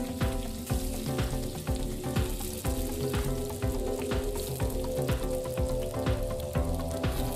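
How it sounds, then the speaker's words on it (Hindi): Boiled potatoes with cumin sizzle steadily in hot oil in a pan, a loud continuous fry with rhythmic stirring clatter throughout and no talking. "जो राजमा के साथ हमने आलू को उबाला था उनको तेल में डालकर हल्का सा फ्राई करना है"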